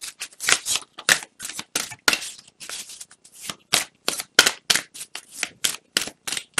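Tarot cards shuffled by hand during a reading, giving a near, steady run of crisp riffling bursts in quick irregular rhythm, with no talk over them.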